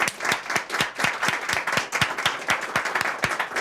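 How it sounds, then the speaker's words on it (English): After a panel discussion on America's energy future, a modest audience gives a round of applause, individual claps distinct in a lively, steady patter. "So let us give a final round of applause."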